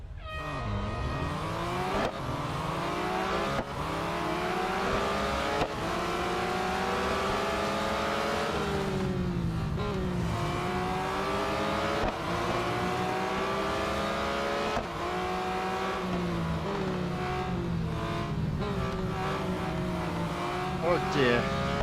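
Race cars in Real Racing 3, a pack of Porsches, accelerate hard with engines climbing and dropping through repeated gear changes, a continuous loud whine that runs throughout, with a voice talking over it.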